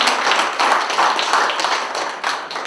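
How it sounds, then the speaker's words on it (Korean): Applause from guests at a newspaper anniversary literary award ceremony, a short burst of clapping from a modest crowd, fairly close and uneven, with individual claps standing out in loose rhythm. "다 같이 큰 박수로 고맙습니다"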